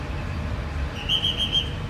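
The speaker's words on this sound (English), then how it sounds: "people blowing whistles" Shrill whistles blown by drivers at a busy Miami shuttle pickup area, a few short, fairly faint blasts in quick succession over steady traffic and crowd rumble.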